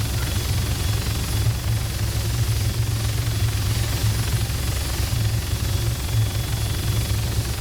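A helicopter in the military simulation game ARMA 3 drones steadily and loudly, its low rotor thrum and engine whine continuous and unbroken, with no voices over it.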